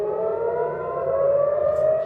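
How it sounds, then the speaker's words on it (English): Air raid sirens wail steadily during a missile attack on Israel, a sustained droning tone with a slow rising pitch that carries loud and unbroken, with no voices over it. "Sirens wailed for much of the night as Jerusalem and Tel Aviv came under attack."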